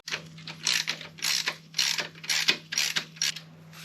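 A hand ratchet clicks in quick repeated bursts while tightening the quick shifter bolt on a Ducati Diavel 1260 motorcycle, close and crisp with no talk.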